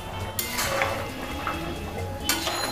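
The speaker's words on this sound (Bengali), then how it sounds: "এবার ভেজে রাখা ধোকাগুলো দিয়ে দেব।" Fried cabbage dhoka pieces dropping into a pot of simmering potato curry, with close clinks of pot and utensil and a soft stir over a steady low bubbling background.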